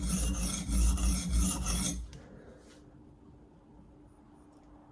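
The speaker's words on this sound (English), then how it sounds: "It's time to deburr." Hand file rasping along the edge of a Damascus cleaver to deburr it, close and loud in rapid back-and-forth strokes for about two seconds, then quiet.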